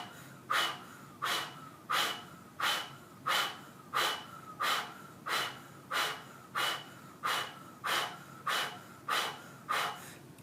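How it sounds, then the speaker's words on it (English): Breath of Fire breathing exercise: about fourteen steady, even breaths pushed through puckered lips, each a short airy rush repeating roughly every seventh of a second apart in a calm, close rhythm with no talking. "Exhale through your puckered lips. Now inhale through your puckered lips."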